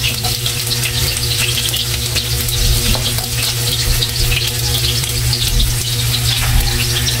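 Chopped onions hit hot oil in a pan for chicken adobo, producing a loud, dense, continuous sizzle with faint crackling that stays even from start to finish, close up and free of speech.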